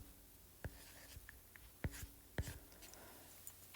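Chalk or marker writing out a physics equation during a lecture on inertial frames: sparse, faint taps and short scratchy strokes in an irregular rhythm over quiet room tone, with no speech.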